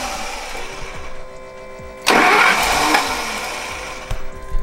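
An RV engine cranks and catches with a sudden loud burst, then keeps running steadily close by, with a brief extra rev near the end.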